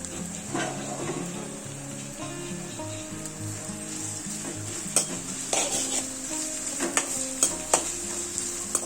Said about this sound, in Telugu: ఈ ఆనియన్స్ బాగా ఫ్రై అవ్వాలి. త్వరగా ఫ్రై అవ్వడానికి కొంచెం సాల్ట్ వేసుకోవాలి.